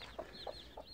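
Chickens kept alongside young pheasant chicks on a farm: three short, soft clucks at a steady pace over a faint background hum, quiet and close.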